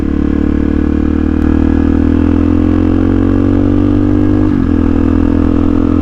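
A supermoto motorcycle rolls through a warm-up lap on a wet race circuit with cold tyres, its engine droning steadily at moderate, rising revs, loud and close, with a brief dip near the end.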